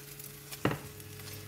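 An egg hits a hot pan with a single short, sharp burst of sizzle, which then fades into a quieter crackle.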